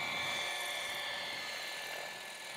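A radio-controlled model helicopter flies at an outdoor model aircraft meeting, its rotor and motor giving a steady whine that drifts slightly farther away over a couple of seconds, with no talking.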